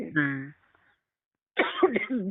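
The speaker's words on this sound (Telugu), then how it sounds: "నాది ఇప్పుడు కాస్త ఈ దగ్గు వల్ల నేను ఎక్కువగా మాట్లాడలేకపోతున్నాను." A single harsh cough, followed by a short pause and then a voice speaking.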